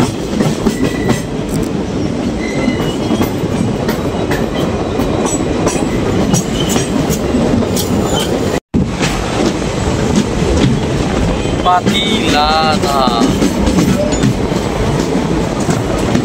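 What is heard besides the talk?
train entering station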